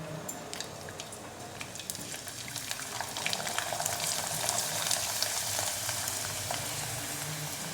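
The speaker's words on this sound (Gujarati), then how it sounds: "પાપડને આપણે તેલમાં તળાવવા માટે મૂકી દઈએ।" A papad made with green garlic and coriander fries in hot oil, a soft bubbling sizzle that swells louder and denser about halfway through and keeps crackling steadily, with no voices.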